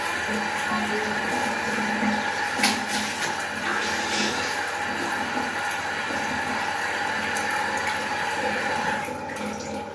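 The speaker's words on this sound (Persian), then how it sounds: "اول باید صورت رو آب بزنیم." Running tap water splashes continuously as a face is rinsed at a sink, a steady close wash of water with faint clatter, lasting about ten seconds.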